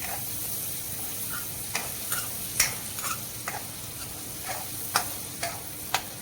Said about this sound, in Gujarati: બધા મસાલા સતળાઈ જાય પછી આપણે ભાજી એડ કરશું